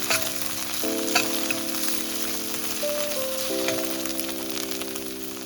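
Onions fry in a pan for Nepali-style maas dal, giving a steady, moderate sizzling crackle over a sustained droning musical tone in the background.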